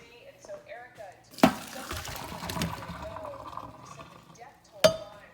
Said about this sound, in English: I'm going to take it to the sink, and I'm going to drain this